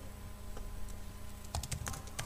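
Short bursts of keys tapped on a computer keyboard while text is entered, quiet and close, with quick clustered keystrokes over a soft room hiss.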